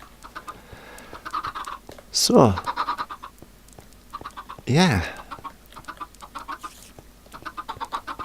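Minecraft chickens in an automatic chicken farm cluck repeatedly in short rhythmic bursts throughout. Two sharper swooping sounds stand out, and someone talks briefly over them.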